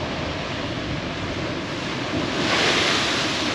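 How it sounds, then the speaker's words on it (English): Rough sea waves crash and roar continuously against rocks on the Gran Canaria coast, with wind buffeting the microphone and a louder surge near the end. "It's just incredible to watch the ocean, the sea, like smash into the rocks."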